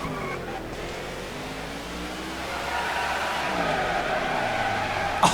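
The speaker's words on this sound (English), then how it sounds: "I gotta stop doing burnouts" A stock car does burnouts in the NASCAR '15 racing game, engine droning steadily with rising, rasping tire squeal that builds toward the end.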